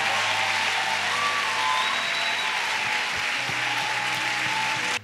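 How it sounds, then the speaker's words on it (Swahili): Steady applause from a church congregation fills the room, a continuous even clatter of many hands that cuts off abruptly at the end. "Simama mpe Yesu makofi"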